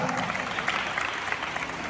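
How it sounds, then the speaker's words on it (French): Applause from an audience at a children's Christmas contest event, a steady continuous patter of clapping throughout with a faint murmur of the crowd beneath it. "Je vous demande d'applaudir"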